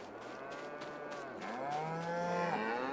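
Cows mooing in the Farming Simulator 22 video game on a Yukon Valley farm, several long, overlapping low moos that rise and bend, steady and clear over faint background ambience, with no talking.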